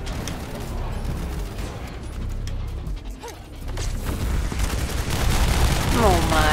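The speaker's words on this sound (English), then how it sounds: "I'm shooting it." Bursts of rapid gunfire from the shooter video game The First Descendant, dense and loud, mixed with clanking mechanical game effects and rising whooshes.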